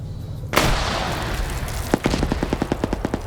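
Video game combat: a sudden loud impact boom followed by a rapid run of sharp gunfire bursts, a weapon striking a Stryker armored vehicle.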